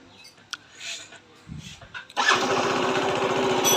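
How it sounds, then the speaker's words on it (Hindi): A short electric starter whir, then a Yamaha scooter engine catches and settles into a steady, buzzy idle; faint voices and clicks come before it. "तो चलिए दोस्तों, अब हम बाइक को स्टार्ट करते हैं, स्कूटी को"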